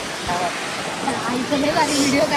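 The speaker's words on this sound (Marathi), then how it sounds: "समुद्राचा मस्त आवाज" Sea waves wash in a steady, moderate rush of surf heard close, with faint voices of people chatting on the shore beneath it.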